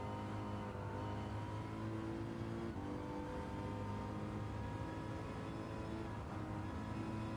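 A GT3-spec Mercedes race car in Gran Turismo 7 holds a steady, sustained engine drone at speed down a straight, with a faint underlying whir and no speech.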